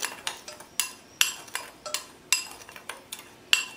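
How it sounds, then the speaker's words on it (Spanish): A spoon clinks and scrapes against a bowl while sugar and cinnamon are stirred together, giving a steady series of light, close metallic taps with no talk. "Y la cucharadita de canela la vamos a mezclar muy bien."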